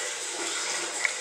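Steady broadband rush of water flowing down through a drain pipe on an off-grid homestead, continuous and fairly faint with no voices over it.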